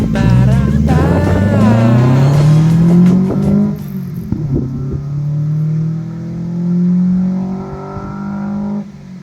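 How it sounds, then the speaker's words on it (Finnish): A Nissan Micra K11 small hatchback revs up hard, its engine note climbing and then settling into a steady drone, with a couple of faint exhaust pops near the middle; no one speaks. "Kiihdytään ja putkessa pärähtää."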